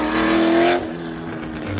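A Corvette's exhaust revs hard at a Carlisle, Pennsylvania car show, a loud, close, steady roar that drops off sharply partway through into a lower idle rumble.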